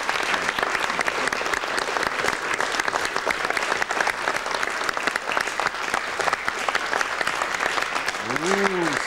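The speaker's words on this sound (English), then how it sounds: "Nice round of applause for Eugene." Loud, sustained audience applause fills a Halloween magic show performed live, with a crowd clapping steadily throughout and a faint tonal sweep near the end.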